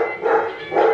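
A dog gives two short, close barks in quick succession, loud and clear with no other sound.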